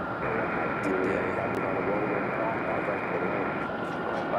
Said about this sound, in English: So there's one of our 2 Delta departures